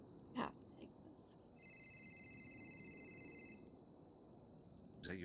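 A phone rings in a GTA V roleplay game: a steady electronic trill holds for about two seconds, faint under quiet background with brief voice sounds around it.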